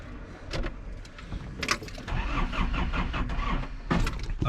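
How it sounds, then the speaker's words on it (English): A truck engine runs unevenly with clunks and rattles from the cab, then falters and dies on a narrow farm lane in Portugal, fairly close and fairly loud throughout. "Okay, the truck has just died."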